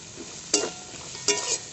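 Soaked raw chickpeas tipped into lightly fried onion and tomato in a pan for a village-style chickpea, shrimp and taro-leaf dish, giving two short bursts of sizzling and stirring over a low frying hiss.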